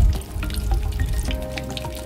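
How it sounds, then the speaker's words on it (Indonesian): Cone-shaped lumpia frying in hot oil give a steady, close sizzle and bubbling crackle, continuous and fairly loud throughout with no voices. "Setelah itu goreng lumpia kerucutnya hingga sedikit agak kecoklatan."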